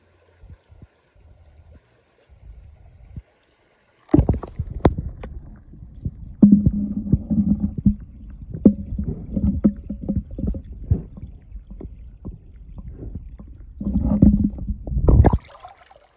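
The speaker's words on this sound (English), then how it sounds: "I'm going to put this right here into the water." Waterproof travel power bank is lowered into water, bringing irregular sloshing, gurgling splashes and bubbling after a quiet start with faint handling noises, close and fairly soft.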